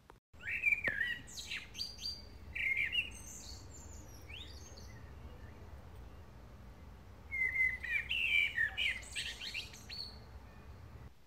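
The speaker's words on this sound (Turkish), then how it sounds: "Mantar toplarımı kızartırken size de kuş seslerini dinletmek istedim." Birds singing outdoors in Turkey, bright chirping and whistled phrases in two bursts separated by a quieter stretch, fairly near, over a faint steady background hiss.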